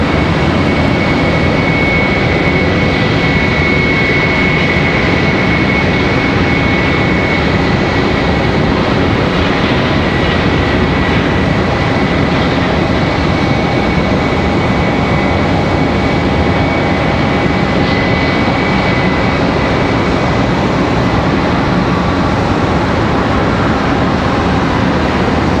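A Spirit Airlines A320-200 jet airliner departs, its engines giving a sustained, fairly loud broadband roar with a faint steady whine, unchanging and continuous with no talk.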